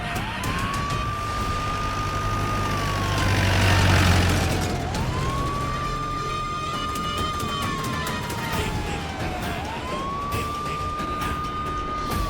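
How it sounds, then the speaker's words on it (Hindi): A police siren wails in long rising and falling sweeps, repeating steadily at moderate distance with traffic rumble underneath. "ये तो पुलिस की सायरन की आवाज।"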